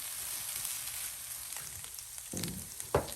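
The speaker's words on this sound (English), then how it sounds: "Go ahead and put the rice in here as well. Gonna mix that in." Rice is stirred into a hot frying pan for egg fried rice, giving a steady close sizzle with a few scraping stirs and clinks of a utensil toward the end.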